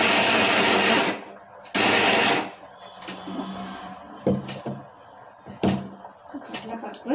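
Grinder mashing chana dal for chicken vadai runs loudly in two short bursts, then stops, followed by clatter and faint kitchen handling noises with some talk.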